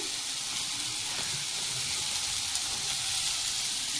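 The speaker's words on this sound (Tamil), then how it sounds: "சீரகம் முந்திரி பருப்பு இதெல்லாம் போடணும். இதை நல்லா வதக்கிக்கிறோம்." Cumin and cashew nuts sizzle steadily in a hot pan for mushroom gravy, a dense, continuous frying hiss with no voices.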